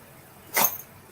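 One short, sharp sneeze bursts out close by, a quick breathy snort with nothing else around it.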